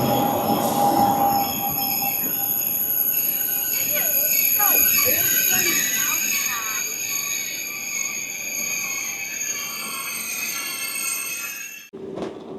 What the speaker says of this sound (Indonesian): Wih keren, keretanya pas lintasan loh.